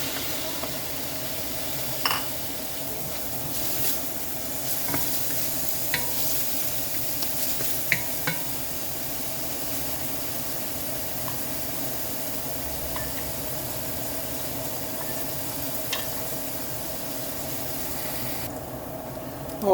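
Fish balls and fish tofu stir-fried in a pan for pansit bihon, giving a steady low sizzle with occasional scraping stirs and small clicks of the utensil, moderately close and with no talking.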